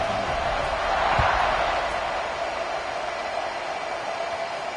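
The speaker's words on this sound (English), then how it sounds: "this crowd is buzzing after that last score" A football stadium crowd in Houston buzzing after a touchdown, a steady broad roar that swells briefly with a thump near the start, then settles into a constant hum.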